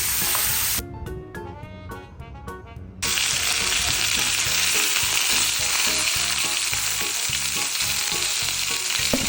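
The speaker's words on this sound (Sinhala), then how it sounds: "මේක හොඳට බෙදෙනවා චිකන් එකේ මේ හැමේ තෙල් ටිකක් ඇවිල්ලා මේකට." Chicken frying in oil in a pot gives a loud, continuous crackling sizzle, briefly cut by a few seconds of stirring and then coming back at full strength, with no talking.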